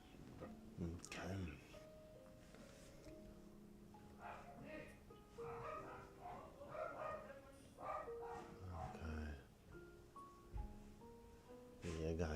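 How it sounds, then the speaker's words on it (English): A pet dog at home barks and yips intermittently in the background, faint and muffled, while a person talks quietly over it. "I'm sorry I can hear my dog"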